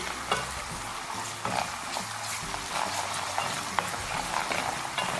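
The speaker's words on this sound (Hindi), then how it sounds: "प्याज के साथ ही हम फ्राई करेंगे।" Chopped onion and ginger garlic paste frying in a pan for dal fry, a steady close sizzle with spoon stirring and scraping strokes running throughout.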